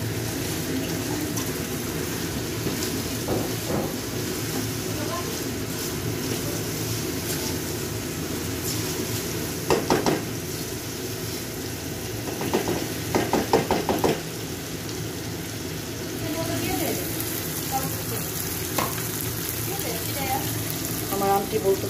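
Shutki bhuna, dried fish in a pan with a little water added, simmers with a bubbling hiss while a spoon scrapes and stirs in short bursts, close by; a voice talks faintly in the background.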